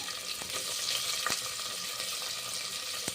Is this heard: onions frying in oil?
yes